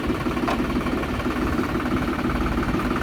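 A TT Classic tractor engine runs in a steady, loud, close chugging drone with an even mechanical vibration throughout.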